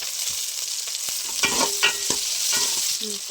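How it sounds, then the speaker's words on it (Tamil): Onions sautéing in a pan with fenugreek seeds for a village-style fish curry, a continuous sizzle with a few sharp spatula scrapes and knocks, heard up close. "வெங்காயத்தை நல்லா வதக்கிடுவோம்"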